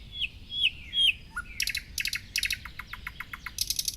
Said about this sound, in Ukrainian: Давайте послухаємо, як співає соловейко.